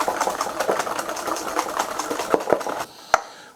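Butter, sugar and egg substitute being whisked for Christmas cookies, a steady busy whirring rattle with rapid scraping pulses that continues for a few seconds and then stops, leaving one sharp knock at the end.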